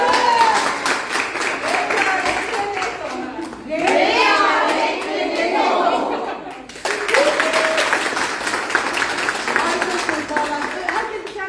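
Group applause at a laughter yoga workshop during a happiness camp, a dense bed of clapping that swells, dips briefly, then resumes, with voices and chatter mixed in.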